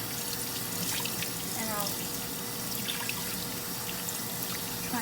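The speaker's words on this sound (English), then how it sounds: "And then I'll turn on the hot water" A kitchen tap runs hot water steadily into a sink with a constant splashing rush while a person speaks briefly over it.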